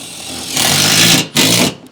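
A drill drives drill-bit screws into metal strapping as they strip out and spin, giving a loud steady high whine that runs about a second, breaks off briefly, then whirs again before stopping.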